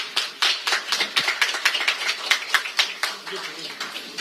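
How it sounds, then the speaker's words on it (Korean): Steady applause from a crowd at a pledge signing ceremony for party election candidates. The clapping goes on at a fairly even pace and fades a little toward the end. "큰 박수 부탁드립니다."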